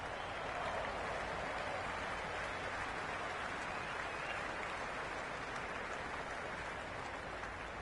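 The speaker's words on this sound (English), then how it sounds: "Will you listen to that crowd?" Stadium crowd noise from the cricket video game Cricket 26, a broad steady roar of cheering and applause that holds evenly throughout, with no talk over it.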